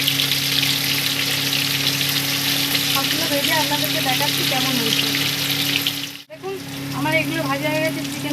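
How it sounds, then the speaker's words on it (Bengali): Chicken and potato pieces frying in a wok, a steady loud sizzle of hot oil running throughout, with a brief dip near the end as pieces are added or stirred before the crackling resumes; faint voice traces underneath. "ভেজে আপনাদেরকে দেখাচ্ছি কেমন হয়েছে।"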